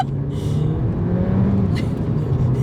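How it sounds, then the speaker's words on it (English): A Mini Cooper JCW spinning its wheels on a wet road, heard as a loud, steady engine roar with rumbling drone and tyre noise throughout, no speech. "just wheel span all the way up that road because it's a little bit wet"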